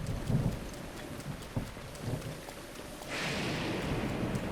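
Steady rain in The Legend of Zelda: Breath of the Wild, Switch 2 Edition, with a low rumble of thunder early on, then the rain swelling into a denser, brighter hiss.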